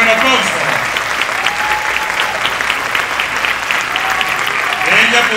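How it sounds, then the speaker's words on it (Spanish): An audience at a creators' awards night applauds an honoree, a loud, close, continuous burst of dense clapping that holds steady for several seconds with a slight swell at the end. "A la señora Lina Morillo, a quien recibimos con el aplauso."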